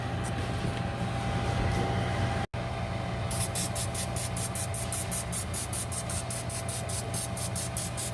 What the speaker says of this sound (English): Don't spray your damn scallops with Pam